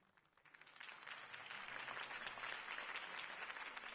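A crowd applauds after a campaign speech, the clapping swelling quickly from a few hands into dense, sustained applause that stays fairly faint and distant throughout.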